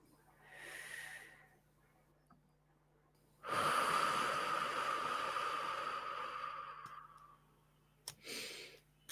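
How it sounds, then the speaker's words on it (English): Slow deep breathing with a long drawn airy breath lasting several seconds, framed by shorter, softer breaths before and after, close and quiet. "big breaths in and then short breaths out"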